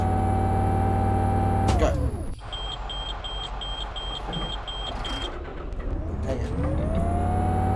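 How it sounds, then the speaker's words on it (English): Karosa C954 bus in the OMSI 2 simulator launching at full throttle in first gear, a loud steady engine drone that swells and rises in pitch after a gear-change dip, with brief beeping tones and someone speaking over it. "Full throttle. We're going to full throttle launch."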